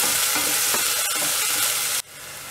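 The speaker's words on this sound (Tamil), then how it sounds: "வெங்காயம் ஆட் பண்ணிவிட்டு நல்லா வதக்கி விடணும்" Onions sauté in a pan for a Tamil kara kuzhambu with mochai beans, giving a loud, dense sizzle and frying hiss broken by stirring scrapes before it suddenly drops to a softer sizzle.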